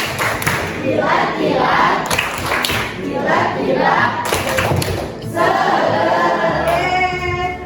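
Young pupils in a classroom do a short rhythmic clapping chant led by their teacher: repeated sharp clap bursts and thuds in a bouncy pattern, with children's voices chanting over them.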